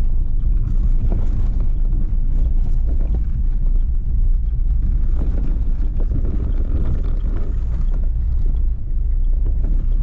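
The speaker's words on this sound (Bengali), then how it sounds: "দেখো আমরা অফরোডিং করছি" A car lurches along a badly broken, unpaved back road on the way to Digha, with a constant loud low rumble, bumping and jolting noise and wind buffeting the microphone throughout, no voices.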